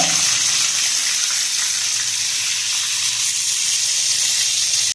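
Pieces of salted fish frying in hot oil in a pan, a loud, continuous bright sizzle and hiss close up, holding steady for several seconds before cutting off abruptly at the end, with no talking.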